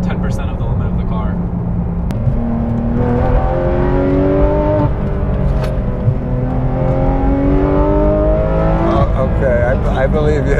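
A Porsche 991.2 GT3 RS engine hums and rises while cruising on the road, with steady engine tones sliding up and down, under people talking inside the car.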